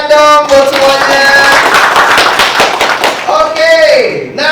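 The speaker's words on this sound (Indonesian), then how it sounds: "Kasih tepuk tangan dong buat semuanya." Audience applause breaks out at an Indonesian motivational seminar, a loud, dense burst of clapping that swells in the middle of the clip, with a voice speaking over it at the start and again at the end.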